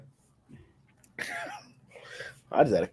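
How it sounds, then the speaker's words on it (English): A man coughs hard in a short fit, several harsh rasping bursts close to the microphone, with a faint sound before them. "I just had a cough attack."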